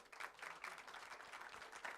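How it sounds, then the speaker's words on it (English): Audience applause at a Sarangi musical show, a steady dense wash of many hands clapping at moderate distance, fairly soft and continuous without voices. "let's give Ans a big round of applause once again"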